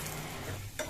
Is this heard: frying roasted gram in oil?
yes